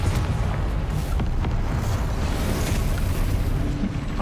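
A fiery Confringo spell blast erupts in the video game Hogwarts Legacy, a dense, loud rumbling boom that rolls on for several seconds with crackling debris, no voices present.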